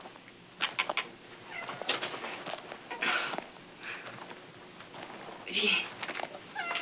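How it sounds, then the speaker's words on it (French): A pet cat gives several short meows spread through the moment, close and moderate in volume, while a woman calls to it softly in French between the cries. "viens mon beau minou, viens."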